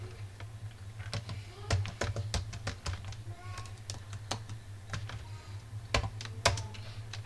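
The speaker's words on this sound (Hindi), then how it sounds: "अब मैंने एक आइटम का नाम टाइप किया" Keys clatter on a computer keyboard as an item name is entered into hotel menu management software, with quick irregular bursts of close clicks over a steady low electrical hum.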